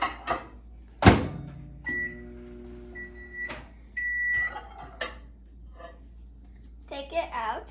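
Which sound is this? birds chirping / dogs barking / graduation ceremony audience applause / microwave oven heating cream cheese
microwave oven heating cream cheese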